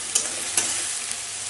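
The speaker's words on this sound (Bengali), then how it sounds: "এভাবে ঢেলে কষিয়ে নিচ্ছি" Fish curry masala with tomato and green chilli is stirred and sautéed in a pan, giving a continuous hissing sizzle with a few sharp scraping stirs of the spoon, close and clear with no talking.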